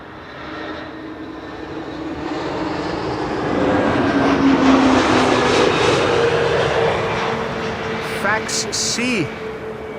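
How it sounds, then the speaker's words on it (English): KLM Airbus A321neo landing at Amsterdam Schiphol, a swelling jet roar that builds and passes overhead, then fades amid airport ambience. "That's KLM flight 1602 arriving from Rome."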